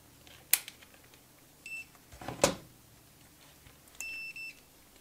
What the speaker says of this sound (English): Let's beep that out and just make sure that it does appear to be connected to sensible things.